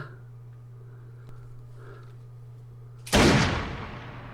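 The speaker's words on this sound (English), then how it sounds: "Did he just shoot himself?" A single gunshot from the TV series Lost bursts out loud and sharp after about three seconds of quiet room hum, then quickly decays.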